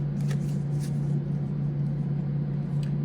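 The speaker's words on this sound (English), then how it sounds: "I'm just going to shuffle one more time to make sure" Tarot cards shuffled by hand in a few soft, brief papery bursts, close and fairly quiet over a steady low electrical hum, with no talking.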